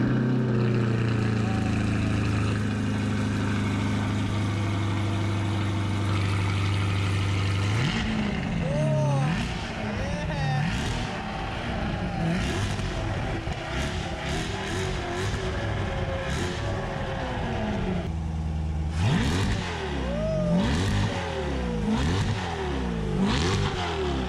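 Modified 2020 Chevrolet Corvette C8 engine firing up with a loud rumbling idle, then several sharp revs that rise and fall in quick bursts, close and loud, with people talking now and then.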